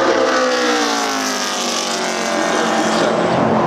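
A Camping World Truck Series race truck roars through a qualifying lap at Phoenix, its engine loud and close with a rising, sustained whine as it accelerates off the turn.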